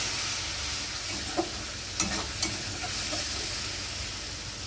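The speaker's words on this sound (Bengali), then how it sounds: "এবার সামান্য জল দিচ্ছি, কষতে থাকবো" Ground spices fry with a splash of water in a pan, a steady hiss and sizzle with a few sharp scrapes and taps of a spoon stirring, close and continuous, no voices.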